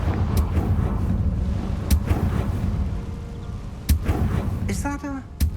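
The Confringo blasting spell from Hogwarts Legacy goes off in several sharp, booming hits spread a second or two apart over rumbling game ambience, with brief voice-like sounds near the end.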